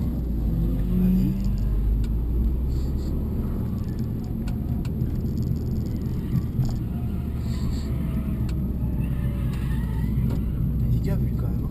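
A Subaru Impreza STI with 240 hp accelerates on a race circuit, its engine a continuous loud rumble heard from inside the car, with people talking over it.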